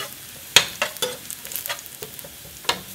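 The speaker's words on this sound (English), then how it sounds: "Fry this garlic until little crispy" Garlic frying in hot oil until crispy crackles with a light sizzle, punctuated by a few sharp clicks of stirring.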